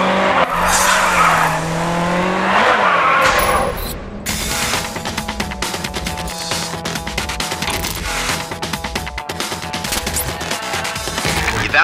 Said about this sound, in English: Great drifting.